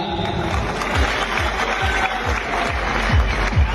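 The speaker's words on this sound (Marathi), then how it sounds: "जोरात टाळ्या वाजवा एकदा।" Audience at a bodybuilding competition event clapping together, dense sustained applause with a steady rhythmic beat running through it, fairly loud and continuous.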